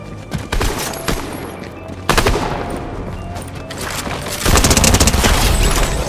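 Gunfire in the game Fortnite, rapid bursts of shots and a heavy boom, loud and close, with volleys growing denser toward the end and no talking over it.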